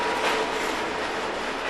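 An overnight train runs along the Italian peninsula toward the Strait of Messina and Sicily, a steady close rumbling roar of wheels on rails with a slight rattle, no voices.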